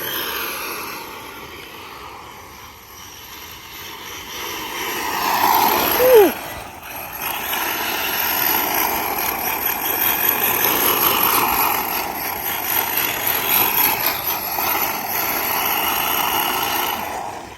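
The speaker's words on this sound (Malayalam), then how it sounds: "അപ്പോൾ ഇതാണ് നമ്മുടെ കെൻ ബ്ലോക്കിൻ്റെ 1/10 സ്കെയിൽ RC കാർ" A Ken Block 1/10 scale rally RC car running at full speed, a continuous high motor whine that rises and passes close, with a sharp swell around the middle and steady buzzing after, outdoors with no talk.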